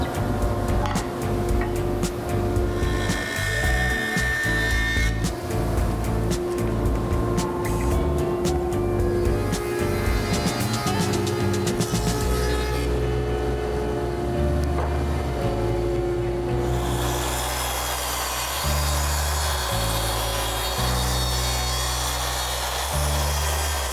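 A wooden board with a live edge is surfaced and planed, giving loud, steady machine roaring and cutting noise that keeps shifting in pitch and texture as the passes continue, with no talking.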